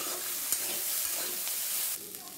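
A spoon stirs vegetables for semiya upma in a pan just after the lid comes off. The sizzle is faint and steady, with a few light scrapes and taps that ease off near the end.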